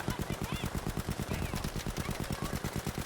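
Rapid automatic gunfire in Battlefield V, with a Sten submachine gun and Japanese forces involved, fires as a steady loud burst of evenly spaced shots running throughout.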